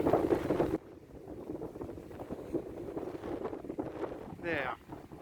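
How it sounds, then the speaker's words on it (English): Wind buffets the microphone in rough, uneven gusts at Liopetri Potamos, Cyprus, loud at first and then a steady rumbling blow, with brief voice sounds mixed in. "it's really windy here"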